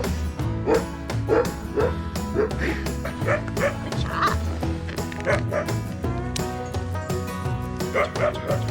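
A sled dog barks, yips and whimpers during nail clipping, with repeated close calls over a continuous busy background, in a winter mushing setting.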